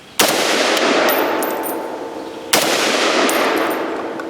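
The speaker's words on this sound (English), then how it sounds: "I'm gonna shoot that big old tank over there," .308 battle rifle shots hit a hanging propane tank: two loud, sharp reports about two seconds apart, each followed by a ringing metallic clang from the distant tank that decays slowly.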